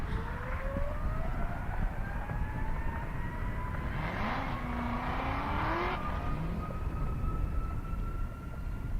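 A Tesla Model S Plaid electric car drag races down a half-mile airstrip course, its high electric whine rising steadily in pitch as it accelerates past, loud and continuous over constant background rumble.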